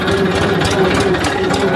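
A farm tractor engine runs steadily nearby, a loud continuous rumbling drone with an even mechanical chug and no voices over it.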